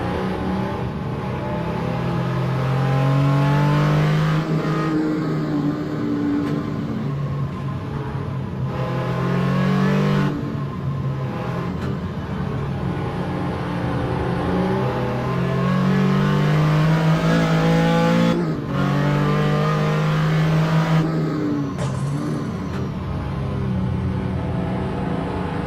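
Engine of the number 94 Porsche 935 K3 race car in a virtual historic sportscar race at Road Atlanta, heard from the cockpit as a loud continuous roar that repeatedly revs up and drops back through gear changes.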